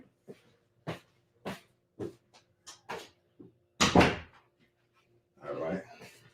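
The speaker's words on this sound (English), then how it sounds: "I had to close that door." A door is shut at home with a series of light knocks and bumps, then a louder thud, and a brief rustling burst trails after.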